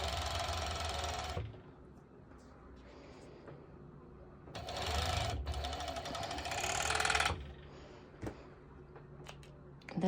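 A serger stitches the crotch seam of homemade activewear shorts in two rapid, buzzing runs separated by a quieter pause with faint handling noise.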